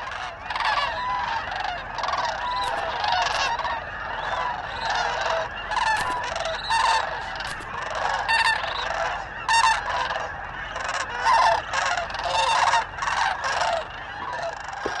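Sandhill cranes calling in the early morning, captured with a parabolic microphone: a steady chorus of rolling, honking bugles from many birds, overlapping continuously and fairly distant.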